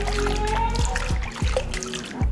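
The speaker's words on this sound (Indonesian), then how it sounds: "Langsung kita bilas." Water splashes and trickles steadily in a shower, rinsing off a body scrub containing glutathione and vitamin E, with continuous running spray and small splatters close by.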